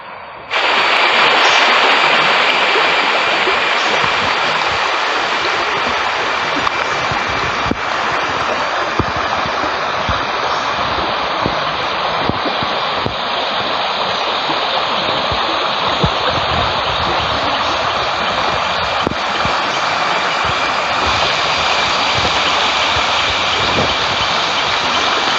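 Steady rushing of river water in Shirady village, a loud continuous broadband wash with no breaks and no voices.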